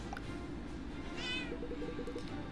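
A cat meows in Cat Quest II, a short, bright, game-style meow rising over a low steady musical backdrop, with no talk over it.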